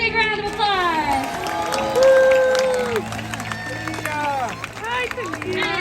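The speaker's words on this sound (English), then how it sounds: "Give her a big round of applause." Audience at a Sea World San Diego killer whale show clapping and cheering, a broad crowd wash with whoops and shouts over it, while a voice speaks over the noise.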